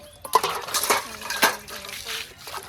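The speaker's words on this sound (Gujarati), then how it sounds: "આ બાદ તો તેજલ તો બેઠા છે વાસણ ઘસવા માટે" Metal dishes and utensils are scrubbed and washed, with close, busy clinks and clatters of steel vessels knocking together and rubbing scrapes in an irregular rhythm.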